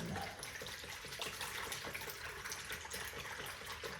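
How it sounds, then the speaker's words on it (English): A hand mixing sourdough starter with water in a bowl, soft continuous wet squelching and sloshing, quiet and close, with no talk. "Just breaking apart the starter just so that it's a uniform mixture of starter and water at this point."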